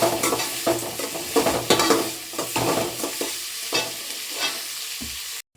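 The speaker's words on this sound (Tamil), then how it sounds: "வெங்காயம் நல்லா பொன்னீர கலரில் வர அளவுக்கு நல்லா வதக்கிக்கணும்" Salted onions are sautéed in a pan until golden, giving a loud, steady sizzle with repeated scraping stirs of a utensil against the pan. No voices are heard, and the sound stops abruptly at the end.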